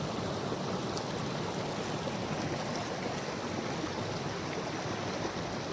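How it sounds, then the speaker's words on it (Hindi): Glacier meltwater rushes down rocky mountain paths in Solang Valley near Manali, a constant, close, full-bodied roar of flowing water with no breaks and no voices. "जो ग्लेशियर हैं, वो पिघल कर पानी इन पहाड़ी रास्तों से होते हुए यहाँ नीचे की तरफ आ रहा है"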